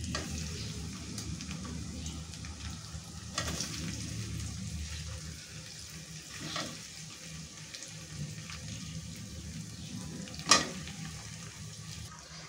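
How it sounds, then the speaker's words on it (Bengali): Raw mango pieces, about two kilograms, go into hot oil for a sweet-sour-spicy jaggery pickle, setting off a steady low sizzle with scraping stirs and a few sharper clatters of pieces and utensil against the pan. "এখন আমি কাঁচা আমগুলো এতে দিয়ে দিচ্ছি।"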